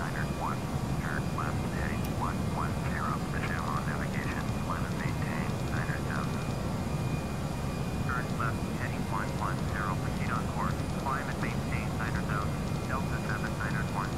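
A Delta Airbus A319 jet airliner at Chicago O'Hare in Microsoft Flight Simulator X, a steady, broad engine roar and rumble holding constant throughout, with a voice speaking over it and faint chirping blips scattered on top.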